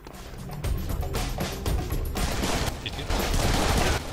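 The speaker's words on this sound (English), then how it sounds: "There's an activated turret." Automated turret in the Serious Sam shooter game opening fire with a dense, continuous barrage of loud gunshots that runs steadily throughout, with no talk over it.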